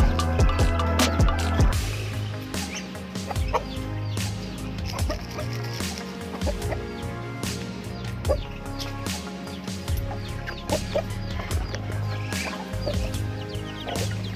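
Texas gamefowl roosters cluck in short, irregular bursts close by, with occasional dripping and trickling water and scattered small knocks between the calls.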